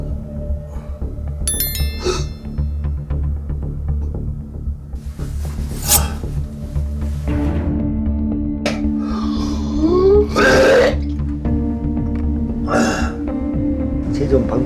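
A man who has had chronic hiccups for eight years makes repeated gulping, retching gags and burp-like sounds, spread through the clip under steady nearby talk.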